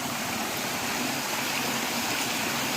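A small waterfall beside a village lake in Kerala pours in a constant, loud, broadband rush that stays steady throughout, close by, with no voices.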